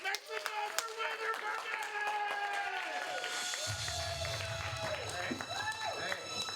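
Comedy club crowd at a New Year comedy bash in Oklahoma City clapping and cheering as a comedian takes the stage; steady, full applause with whoops and a voice speaking over it throughout.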